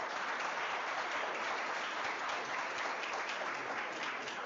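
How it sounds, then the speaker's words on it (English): Steady, dense applause from a crowd at a school board meeting, continuous and fairly loud throughout with no voices standing out. "A huge round of applause for our amazing cafeteria managers"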